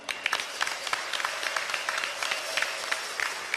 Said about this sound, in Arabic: صفقوا جميعا